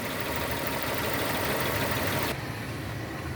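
Engine of a 2002 Nissan Almera N16 with the 1.8-litre QG18 petrol engine and cable throttle, with an O2 sensor fault, running at a steady idle: a continuous broadband hum that drops slightly in level partway through, with no talk.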